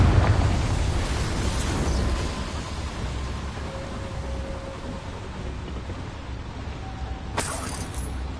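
Confringo fire spell blasting in Hogwarts Legacy inside a small mine, a loud rumbling burst at the start settling into a long crackling, roaring decay, with a sharp bright impact near the end.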